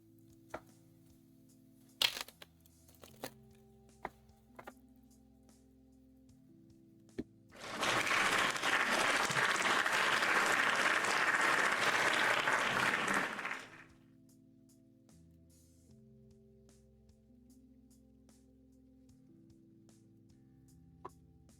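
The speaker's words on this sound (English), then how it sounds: "Can we get some exclamation point claps in the chat for Spider?" A burst of applause triggered as a stream alert plays for about six seconds, a dense steady clatter of many clapping hands that starts and stops abruptly, surrounded by near silence and a few isolated clicks.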